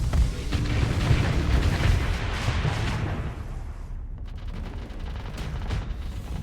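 Ship weapons firing in the space combat game Starsector, a dense, continuous barrage of booming shots and rumbling blasts that holds loud throughout and thins slightly midway, with no voices.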